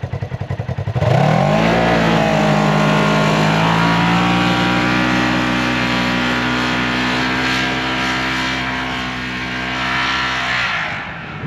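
A Polaris RZR XP 1000 with a stock muffler and its exhaust valve closed takes off hard, the engine note climbing fast and then holding a loud, steady drone close by for several seconds before easing off at the end.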